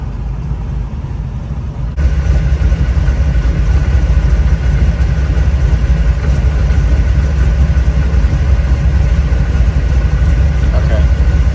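A 572 big block Camaro engine idles roughly, a loud, steady low rumble that kicks in after a quieter opening and holds throughout.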